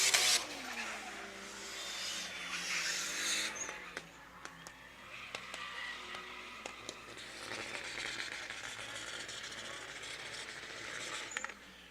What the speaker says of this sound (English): Off in the background, you see a bit of a drift exhibition.